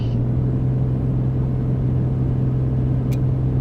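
Droning aircraft engine at full power on an A2A Comanche in Microsoft Flight Simulator 2024, a loud steady low hum with constant pitch and a brief faint click near the end.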